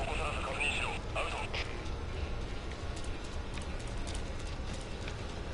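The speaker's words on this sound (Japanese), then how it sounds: "すげえ足音聞こえる。" Heavy footsteps from the Metal Gear Solid V: Ground Zeroes video game, a steady stream of close, loud steps over a dense, noisy game background that continues for the whole stretch.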